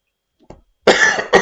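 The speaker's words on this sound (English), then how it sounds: "Ooh, bit of a big cough there, wasn't it?" A single loud, close cough, a sharp burst followed by a second quick hack, after a faint short sound.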